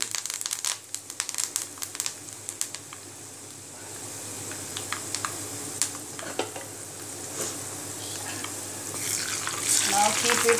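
Garlic and curry leaves fry in a hot pan for amla pickle, giving a steady close sizzle with scattered crackles and pops and occasional stirring scrapes, growing louder toward the end.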